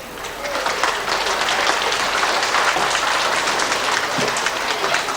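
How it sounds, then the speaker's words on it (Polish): Warm applause from an audience at a Wolsztyn cultural-centre award ceremony, a dense, steady wash of clapping lasting throughout at close, even loudness. "Gorące brawa my państwa"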